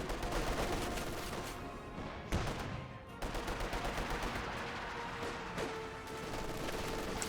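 Rapid rifle and machine-gun bursts rattle through a Company of Heroes 2 battle, dense and loud, with a sharp explosive crack midway and brief lulls between volleys.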